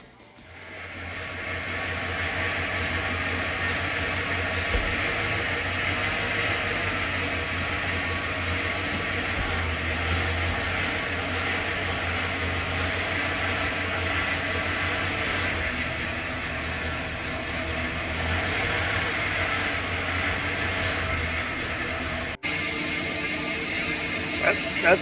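A Fairmont rail motor car engine, being revived from a shipping container shed, idles steadily with a low throbbing hum and faint mechanical clatter, running continuously before a brief cut near the end.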